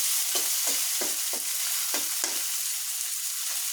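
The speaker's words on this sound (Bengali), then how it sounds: "মাছগুলো আমার ভাজা হতে থাক।" Fish frying in a pan in a home kitchen, a steady hiss of oil with several short clatters of stirring or turning scattered through the first half, close and alone.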